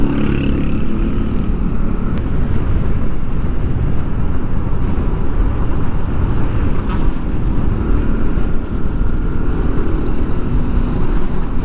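A tricycle with a loud muffler in Barangay Sampaloc, Tanay, Rizal gives off a steady, loud engine roar with broadband rumble and wind noise, unbroken throughout and with no speech.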